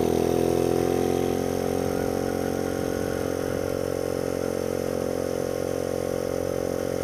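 A small Honda Z50 motorcycle running in fourth, its top gear, gives a steady, even engine drone that holds a constant pitch at moderate level, close by, with no talk over it.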